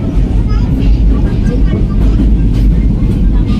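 The Benaful Express passenger train runs from Kushtia toward Dhaka, a loud continuous low rumble heard from inside the cabin with steady rolling noise and no clear breaks.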